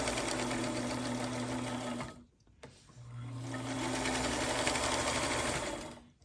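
Sewing machine stitching pieces of a quilt block, a steady loud motor whir running continuously, briefly stopping for a moment midway before starting up again.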